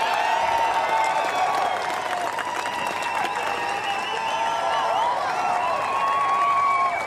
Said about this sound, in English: A huge cheer and a huge smile for Tom Ingram